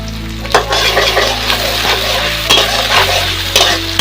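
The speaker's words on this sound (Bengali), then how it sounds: "কাঁচামরিচ। আমি আরো একটু তেল দিয়ে দিচ্ছি।" Green chilies fry in hot oil while more oil is added, a close, loud sizzle broken by several clacking stirs of a utensil against the pan, no talking.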